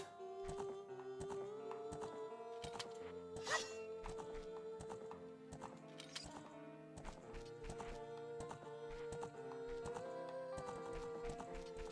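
Epona's hooves clip-clop in a steady rhythm in The Legend of Zelda: Ocarina of Time, over continuous game music, with a possible brief neigh partway through.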